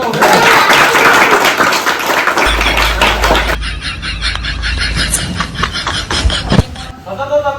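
A group claps loudly and densely, then the applause thins into scattered claps and taps, close by, during a comedy skit.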